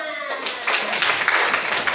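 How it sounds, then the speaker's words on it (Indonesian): A group in a classroom claps, a quick, fairly loud burst of many hands after a brief spoken moment at the start. "Tepuk tangan."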